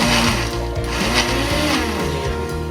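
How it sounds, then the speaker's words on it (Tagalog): Kitchen blender grinding peanuts into homemade peanut butter, its motor droning loud and close and laboring in uneven pulses as the paste thickens at the bottom of the jar. "Kaya nahihirapan yung blender kasi lumalapot yung sa ilalim."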